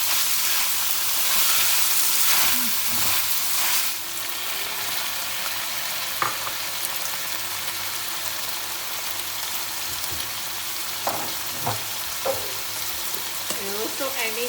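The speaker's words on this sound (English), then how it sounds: "so we will saute this onion" Onion, garlic and ginger sauté in a pan as the base for chicken masala, giving a loud, steady sizzle that runs throughout with a few soft utensil clinks near the end.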